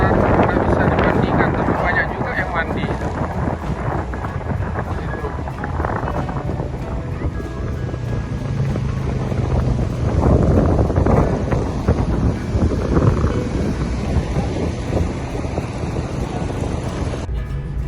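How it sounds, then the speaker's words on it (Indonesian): Strong wind buffets the microphone over a constant roar of big surf at Pantai Panjang beach, Bengkulu, Indonesia, with muffled voices mixed in throughout. "Besar ombaknya, angin kencang, ombak besar, tidak bisa dibandingkan."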